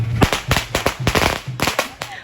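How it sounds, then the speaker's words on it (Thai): Firecrackers burst in rapid, irregular bangs during a Thai festival boat-pulling procession in Trang, loud and close, with voices and crowd noise underneath. "ประทัดมานะคะ นางรำวิ่งหนีเลยนะคะ"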